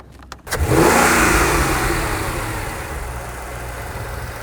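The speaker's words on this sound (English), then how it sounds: "Hit it again, Barb, fire it up." A broken Mercedes AMG with a suspected bad clutch, running in dyno mode: a brief starter crank catches into a loud engine start and a rising rev, then settles into a steady rumbling idle, close and with no talk.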